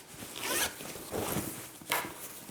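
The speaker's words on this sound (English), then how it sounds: "And now inside I have a zipper pocket" A zipper on the inner pocket of a sewn crossbody handbag is pulled in three short rasping strokes, close and clear.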